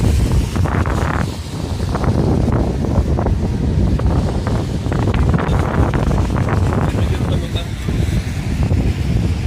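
Strong wind buffets the microphone in continuous low rumbling gusts on a rainy, cloudy day in Toronto, loud and close, with no clear speech over it.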